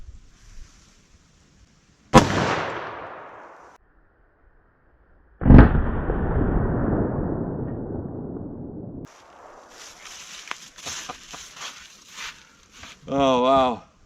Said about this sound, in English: last up, 44 Magnum